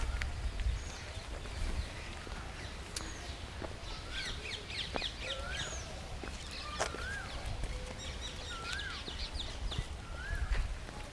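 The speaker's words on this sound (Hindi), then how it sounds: "कोयल की आवाज़ आ रही है" An Asian koel calls repeatedly outdoors at Atranjikhera, Uttar Pradesh, its rising whistled notes ringing out over a steady hum of wind and other distant birds.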